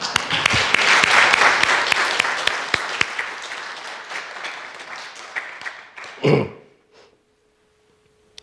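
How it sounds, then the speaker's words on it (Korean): A church congregation claps for a deacon at a Korean church service, a loud burst of many hands that gradually thins and fades, followed by a brief thump, a short sound and near silence. "한번 박수하십시다"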